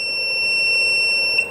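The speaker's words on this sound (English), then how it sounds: "I do feel like the beeping here is a little loud" A sustained, loud, high-pitched electronic beep from the button of an Oukitel P1201 solar generator light, a single steady tone lasting over a second that cuts off abruptly, heard alone without talk.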